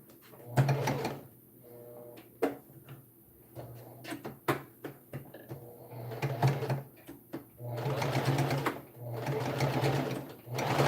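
Sewing machine stitching a fabric sleeve in short runs of rapid humming clatter, separated by pauses with clicks and handling noises of the fabric and machine.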